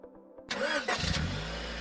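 A new car's engine starts: a few soft clicks, then the engine cranks, catches with a short burst and settles into a steady low idle, all close and clear.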